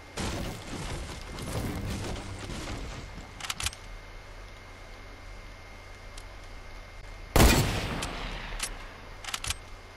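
Gunfire in the video game Fortnite: scattered shots early on, a few sharp isolated cracks mid-clip, then one loud close blast followed by a couple more quick shots, all without talk over a quiet background.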